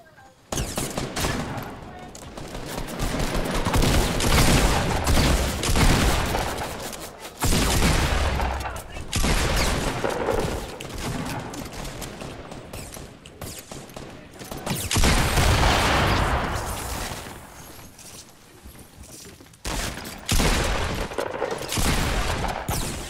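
Rapid gunfire from a gold minigun in the video game Fortnite, long loud bursts of sustained automatic fire broken by short pauses, with heavy booming impacts.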